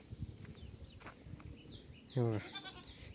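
A single loud bleat from a Kathiawari goat cuts in near the end over faint background noise and chirps.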